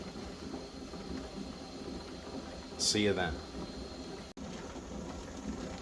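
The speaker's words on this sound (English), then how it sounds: "So soon, this is gonna start steaming a lot." Pressure cooker on a stove, cooking rinsed and soaked millet, hissing with a steady low steam sound, a brief rising whistle-like burst midway and a sudden cut, with a voice speaking briefly.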